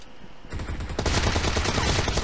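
Sustained automatic gunfire in the battle royale shooter PUBG during a team deathmatch, dense rapid bursts that grow louder and fill the whole stretch without pause.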